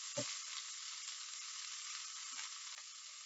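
Steak fries in a pan with an even hiss of sizzling fat that holds steady throughout, broken by a couple of brief soft clinks.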